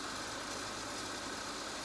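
An old Citroën engine idles in the cold, held at raised revs, giving a faint, steady, even drone with no voices.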